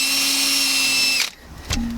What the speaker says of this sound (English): Got to bring the right drill. All right, here we go.